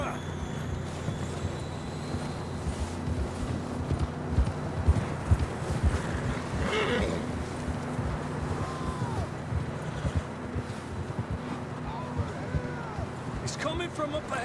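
Horses walking in Red Dead Redemption 2, hooves clip-clopping steadily over a dense outdoor ambience, with voices talking at times over the plodding.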